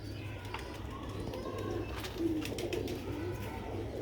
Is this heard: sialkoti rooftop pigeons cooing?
yes